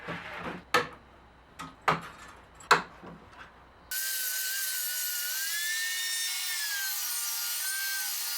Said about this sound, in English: I use the hand saw for the rough cut